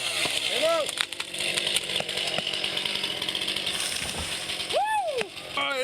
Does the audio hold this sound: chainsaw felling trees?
yes